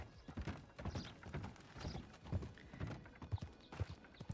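Horse hooves clip-clop steadily in Red Dead Redemption 2 as a rider travels on horseback, a close, even rhythmic patter of hoofbeats with no talk over it.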